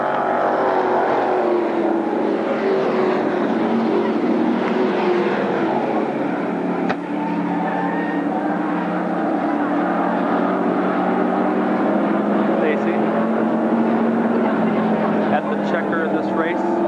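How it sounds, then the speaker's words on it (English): Late model stock cars racing at Berlin Raceway, a continuous loud roar of engines throughout, with an announcer talking over it. "A white flag this time for Dave Cutler"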